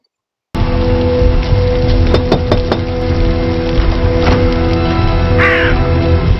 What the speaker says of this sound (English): Not the crow again.